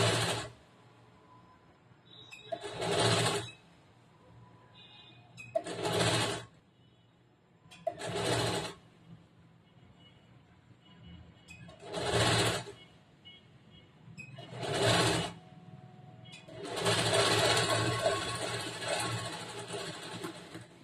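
A sewing machine stitches the sleeve of a blouse in repeated short bursts of whirring, about six runs of a couple of seconds each separated by quiet pauses, the last run longer, no voices.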